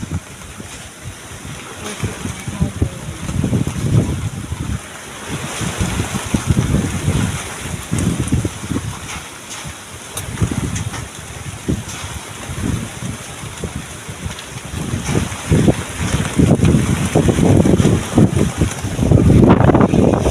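Strong sea wind buffeting a small boat, a constant loud roar with gusting surges and rough microphone buffeting, no voices.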